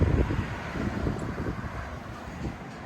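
Strong stormy wind gusts over the microphone at a rural home, a loud rumbling roar that swells and eases without any talk.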